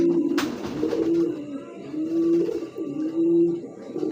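Racing pigeons at a breeding loft coo in low, rounded, repeated calls that overlap one another, close and steady across the whole stretch, with a brief sharp knock near the start.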